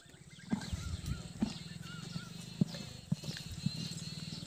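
A spotless mare being sold in Rajasthan moves about nearby, giving irregular hoof clops on the ground with a steady background hum and faint bird calls.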